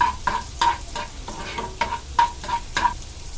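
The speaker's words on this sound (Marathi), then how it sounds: "आपला लसूण आणि अद्रक व्यवस्थित असं लालसर" Garlic and ginger sizzle in hot oil while being stirred in a pan, with steady frying crackle broken by several rhythmic scraping strokes of a spoon, close and fairly loud.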